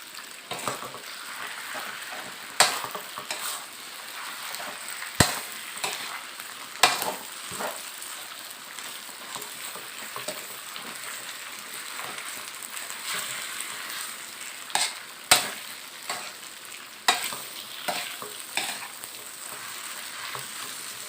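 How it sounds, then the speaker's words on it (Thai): Marinated pork and noodles stir-fry in a hot wok with a continuous crackling sizzle, punctuated by sharp, irregular clanks and scrapes of a spatula against the metal. "ผัดเส้นให้มันโดนกระทะ ให้มันโดนความร้อนให้เส้นมันหอมก่อนครับ"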